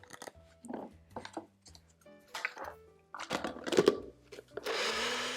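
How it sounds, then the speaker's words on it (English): A countertop blender runs with its lid on, blending a vegan roasted sweet potato mixture until smooth and creamy. A few short bursts lead into a steady, loud whir that builds near the end. "now we're just going to put our lid on and blend this up until it's nice and smooth and creamy"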